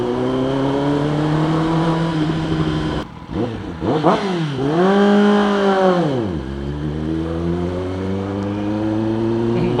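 Kawasaki ZX10R sport bike engine idling loudly up close after a remap, then blipped through several sharp revs that rise and fall before settling back to a rough, steady idle.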